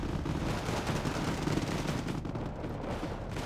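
Autocannons fire in the real-time strategy game Wargame: Red Dragon, a dense, continuous rumble of rapid overlapping blasts from a distance, steady and low for the whole stretch.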